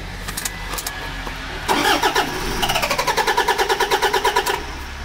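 A broken-down diesel truck's starter cranks with rapid rhythmic chugging that turns into a spluttering, pulsing engine run close by, with no voices.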